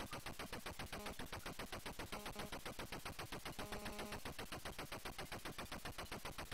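Rapid, steady automatic gunfire from a boss in the video game F16 Renegade rattles on without pause, fairly faint and evenly paced throughout.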